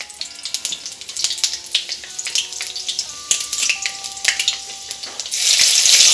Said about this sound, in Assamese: তেলখিনি মিডিয়াম ফ্লেমত গৰম হ'ব দিছোঁ। জলকীয়া দিছোঁ, পাঁচফোৰণ